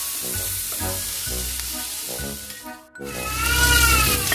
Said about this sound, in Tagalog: Igisa na natin ang sibuyas.